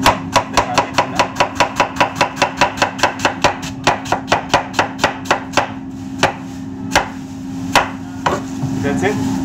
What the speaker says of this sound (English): Just be very careful when you do the cutting of the cabbage